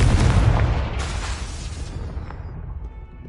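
Confringo spell blast in a PS5 video game, a loud booming explosion at the start that rumbles and slowly fades away over a few seconds, with no talking.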